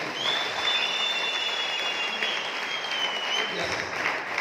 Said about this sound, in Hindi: मैं एक बार जोरदार ताली